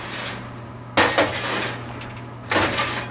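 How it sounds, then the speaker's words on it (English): Dry unpopped popcorn kernels rattle and skitter across a metal surface in two short bursts as they are sifted in a popcorn machine, over a steady low mechanical hum. "you can hear some of those unpopped kernels"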